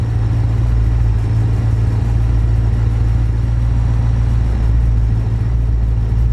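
A 5-liter V8 racing engine idles in the BeamNG driving game with a steady, deep, loud rumble that holds constant throughout, with no speech.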